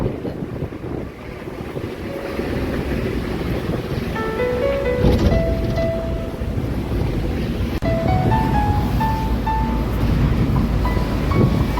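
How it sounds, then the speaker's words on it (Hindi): A cool wind rushes into the microphone outdoors near Siddhivinayak Temple in Mumbai, making a steady broadband roar. Faint tonal sounds sit under it, and no one speaks. "ठंडी ठंडी हवा चल रही है"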